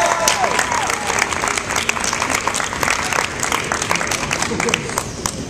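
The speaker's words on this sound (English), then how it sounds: "So let's give Miss Mason a huge round of applause." An audience applauds a woman at the end of a stage speech at a closing event, steady dense clapping filling the room throughout, with some voices and cheers mixed in.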